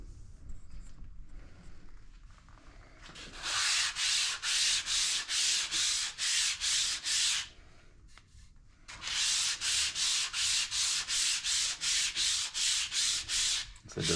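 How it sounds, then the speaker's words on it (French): A wooden cutting board is hand-sanded along the grain, with two long bursts of brisk back-and-forth rasping strokes, close and steady, after a quieter start and a brief pause between bursts. "C'est de sabler dans le grain du bois tant qu'à être là."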